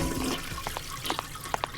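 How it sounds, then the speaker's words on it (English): A cartoon toilet flushes with a gurgling rush of water, and a few bright drips and plinks sound through the swirling wash. "he could only get the toilet to flush"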